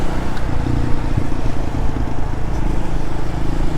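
Honda motorcycle exhaust while riding, a loud continuous engine drone with steady low rumble and heavy wind noise throughout.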